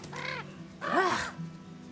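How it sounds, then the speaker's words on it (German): A raven in the video game The Quarry gives two or three harsh, rasping caws, the second one loudest, heard alone against a quiet ambient background. "Ein Rabe."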